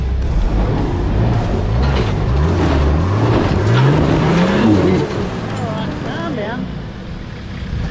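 A four-wheel-drive vehicle on a trail labors with one wheel spinning, its engine droning and rising in pitch, with a loud continuous whine and rumble up close that fades slightly toward the end.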